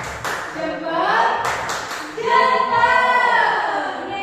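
Children at an Indonesian church Sunday school service clap together in a quick thumb-clap routine, crisp hand strikes mixed with lively young voices chanting and calling out over the top.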